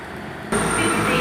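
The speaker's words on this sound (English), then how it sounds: "you can just see down there the Voyager, the Super Voyager 221129 heading off to Newquay" Super Voyager 221129 diesel train pulling out of Exeter St Davids station, with a steady rumble that jumps sharply louder halfway through as the engine powers up nearby.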